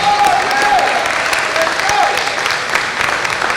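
Loud, sustained audience applause at a live jazz concert fills the whole stretch, a dense wash of clapping and crowd noise with a few faint whistles cutting through near the start.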